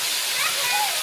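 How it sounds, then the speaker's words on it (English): A waterfall pours nearby in a forest on a family hike, with a dense, loud, continuous hiss of falling water heard up close from beneath it. "We are under the waterfall."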